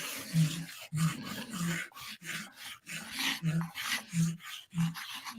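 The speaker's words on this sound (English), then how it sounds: "you just take a piece of chalk on sideways, and then you're just going to rub it across all the surface" Chalk held sideways and rubbed across a pumpkin's surface, giving repeated rasping scrapes in a steady back-and-forth rhythm, close and fairly loud with nothing else heard.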